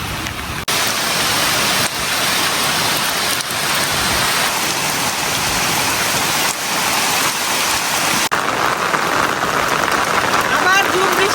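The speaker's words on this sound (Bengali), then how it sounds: "আবার জোর বৃষ্টি আইছে" Heavy rain pours steadily and loudly, a dense unbroken roar of drops hitting surfaces close by, with brief dips where the recording cuts.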